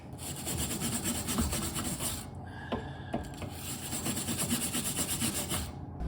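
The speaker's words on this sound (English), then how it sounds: "I just got some WD and gonna hit it with a wire brush" Wire brush scrubbing a brake hub surface sprayed with WD-40, rapid back-and-forth scratching strokes, close and steady for about six seconds, briefly pausing near the middle with a few metallic taps.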